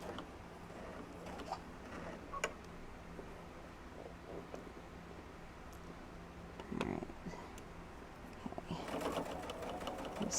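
Sewing machine stitching a puff quilt, giving a faint, steady mechanical whir with soft ticking, heard indoors with quiet handling noises and a brief burst of activity near the end.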